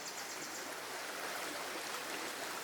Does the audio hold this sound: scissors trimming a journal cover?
no